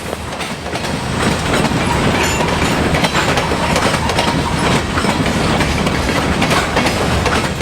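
An EMD SD40-2 diesel locomotive, built in 1979, hauls a train past near Hazleton, Pennsylvania, a loud continuous rumble with rhythmic clickety-clack of wheels over rail joints swelling after the first second and holding steady.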